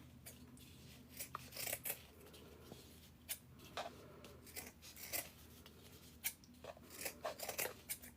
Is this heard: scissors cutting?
yes